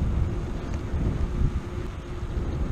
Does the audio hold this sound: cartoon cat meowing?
no